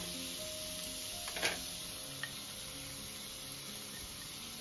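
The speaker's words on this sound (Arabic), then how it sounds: "غادي نزيد عليها واحد البصله متوسطه هكا شلطتها، غادي نديرها تشحر" Steady oily sizzling of a medium onion, chopped, frying in oil in a pan, continuous and close, with a couple of faint clicks.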